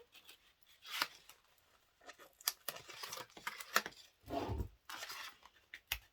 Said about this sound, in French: On enlève tous nos scotch tranquillement.